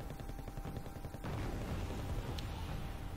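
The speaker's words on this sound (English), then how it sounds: "air artillery" Distant rumbling air artillery fire in the war strategy game Wargame: Red Dragon, with dull repeated thuds under a steady noisy wash, fairly faint overall.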